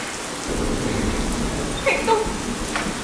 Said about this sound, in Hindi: ऊपर से बारिश को भी इसी वक्त शुरू होना था।